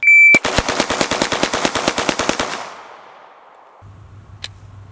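A handgun fitted with a red dot sight fires a rapid, evenly spaced string of about a dozen loud, close shots, then the reports fade into a ringing echo and quiet.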